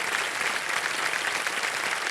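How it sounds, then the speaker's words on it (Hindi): Studio audience applause for a contestant on the Hindi quiz show Kaun Banega Crorepati, a dense, steady wash of many hands clapping that fills the whole stretch without a break. "ताली बज जाए इनके लिए"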